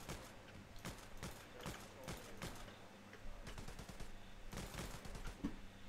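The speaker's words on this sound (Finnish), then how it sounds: "Ammun summassa, koska ei voi muutakaan." Rifle and machine-gun fire crackle in Hell Let Loose, WWII infantry shooting in fog, with clustered bursts and single shots rattling at mid distance over a constant battle din.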